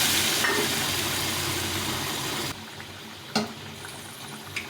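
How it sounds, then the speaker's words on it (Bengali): Hot water pours into a pan of fish curry masala with tomato, a broad steady rushing gush for a couple of seconds that then stops, leaving a softer bubbling simmer and a couple of clinks, close by, with no talking. "এখন এর মধ্যে জল দিয়ে দেবো এই গরম জল করে রেখেছিলাম"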